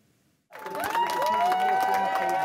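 A crowd erupts into loud, sustained cheering and applause as election results are announced in Barbados, with whistles and voices rising over the roar after a brief quiet moment.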